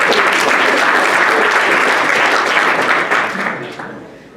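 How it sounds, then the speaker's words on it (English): Loud, dense applause from a dinner-event crowd greeting a family seated in the room, a steady roar of many hands that tapers off near the end. "Let's give them a round of applause for being here"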